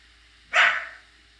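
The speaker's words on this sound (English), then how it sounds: "The dog's not too pleased." A single sharp dog bark in a card game of MTG Arena, short and fairly loud, standing alone against near silence.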